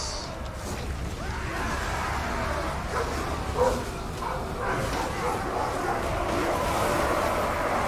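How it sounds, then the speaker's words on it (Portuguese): Dogs bark repeatedly in the background, with yips and whimpers mixed in over a steady noise bed and passing car sound, while someone talks throughout. "esse barulho dos cachorros loucos aqui reduza"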